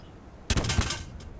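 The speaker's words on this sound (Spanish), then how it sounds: "¡Ya estamos con las explosiones!" Explosions in the video game Little Inferno: a sudden burst of crackling, popping blasts lasting about half a second, with a smaller pop just after.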